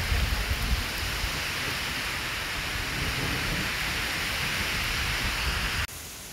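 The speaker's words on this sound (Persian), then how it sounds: "یه باد و بارونیه که اصلا بهتون نگم، و سیل شد" A heavy wind and rain storm flooding the road roars as a constant, thick wash of rain noise, then drops suddenly to a quieter level near the end.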